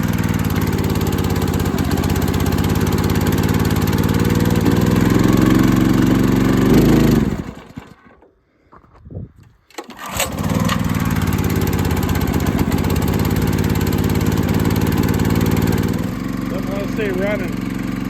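A ported Husqvarna 61 chainsaw engine runs with the choke on, a loud steady drone that cuts out and dies for about two seconds before it catches and runs again. A voice may be heard faintly under the engine.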